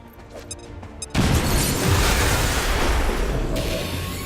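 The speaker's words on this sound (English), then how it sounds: "Grenade out!" A grenade explodes in the tactical video game XCOM 2, a sudden loud boom after a second of quieter game ambience, followed by a sustained roaring rumble of debris that lingers and slowly thins.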